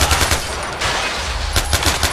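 Loud, close automatic gunfire from the video game Far Cry 4 rattles out in repeated rapid bursts with brief gaps, with no talking over it.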